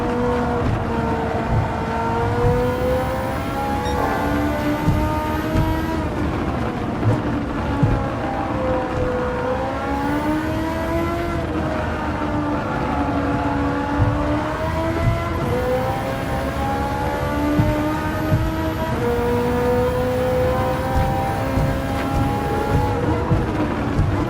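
Race car engines in the Gran Turismo 7 video game whine loudly and continuously, pitch climbing and dropping repeatedly through gear changes as the cars accelerate and brake.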